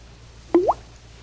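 A single dripping faucet sound effect in an old radio comedy, one clear close plop with a rising watery pitch and nothing else around it.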